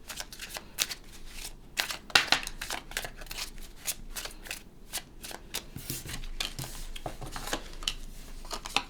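Tarot cards being shuffled and drawn from the deck, a steady run of close, crisp riffling and flicking snaps with short bursts and brief pauses, no voices.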